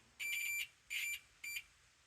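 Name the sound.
multimeter continuity test beep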